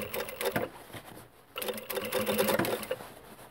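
Domestic sewing machine stitching through thick fabric, a dull, heavy rapid chatter in two bursts with a short pause between, loud and close.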